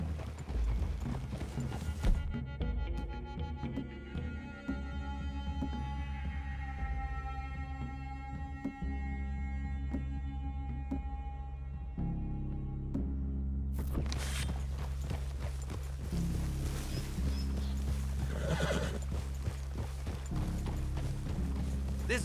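Horses in Red Dead Redemption 2 clip-clop along at a steady walking rhythm through the whole stretch, hooves close and clear under a layer of in-game music and ambience.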